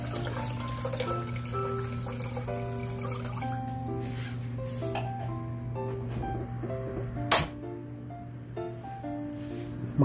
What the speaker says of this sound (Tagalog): maglalagay tayo ng tubig dito sa ating